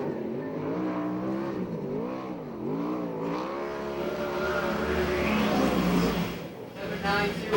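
A USAC/CRA sprint car on a qualifying lap at the Perris fairgrounds, its engine rising and falling in revving sweeps and swelling into a louder pass, heard beneath continuous commentary.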